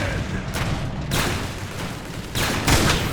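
Sci-fi weapon gunfire from the Transformers War for Cybertron video game, with dense, overlapping bursts of shots and booms that rise and fall over about three seconds, loud and close, with a brief voice in the mix.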